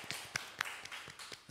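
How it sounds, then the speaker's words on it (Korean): A church congregation applauds after a prayer, with scattered, fairly faint claps close together. "모든 영광 박수로 올려드리겠습니다"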